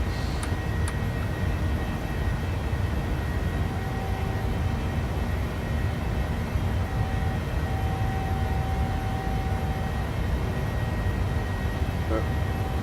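Airliner taking off and climbing in Microsoft Flight Simulator 2020, a steady dense engine roar holding at a constant level throughout, with faint tones and ticks above it and speech mixed in.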